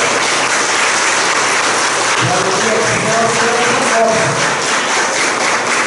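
Warm applause from a church congregation for the young people, catechists and altar servers at Mass, a dense steady clapping with a few voices calling out over it.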